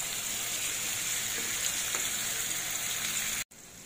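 Garlic and potato frying in a pan give a steady, close sizzle that runs unbroken, with a brief dropout near the end and no talking.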